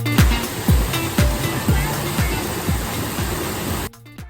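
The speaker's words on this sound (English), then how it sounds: "We're actually behind the waterfall." Hardraw Force waterfall roaring from a spot behind the falling water, a loud, steady wash of broadband rushing noise with rhythmic low surges, close and constant until it cuts away near the end.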